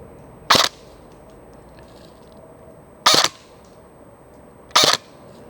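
A Barra 400E Gen 2 BB gun fires on semi-auto outdoors, three sharp, loud single pops spaced a couple of seconds apart over a quiet background hiss, with no talking.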